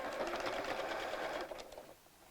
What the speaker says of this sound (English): we're going to sew all the way along the side of the sleeve and down to